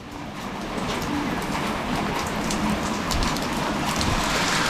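Heavy rain from a storm on a cycling trip through Japan pours steadily and densely, a loud continuous hiss of drops on surfaces with no voices.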